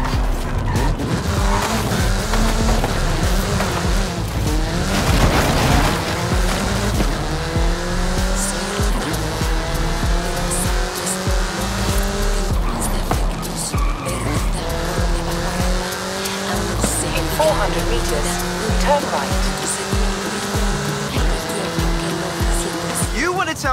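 A hyper car races in Forza Horizon 5, its engine roaring and rising through gear changes while tires squeal and skid repeatedly through turns, loud and continuous for over twenty seconds, with a voice talking over it.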